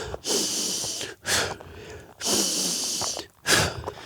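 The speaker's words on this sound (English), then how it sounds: "when I go uphill, this is my breathing system. I go real deep in" Deep, heavy breaths from a hiker climbing a hill on a long-distance trail, long forceful inhales and exhales in a slow repeating rhythm, close and loud.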